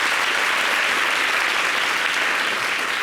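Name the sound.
audience applauding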